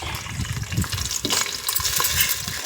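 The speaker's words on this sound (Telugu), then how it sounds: "ఉల్లిగడ్డ పేస్ట్ వేసి బాగా కలపాలి" Onion paste is stirred into a fish curry frying over a wood-fired stove, with brisk spoon scrapes and soft slapping over a continuous close sizzle.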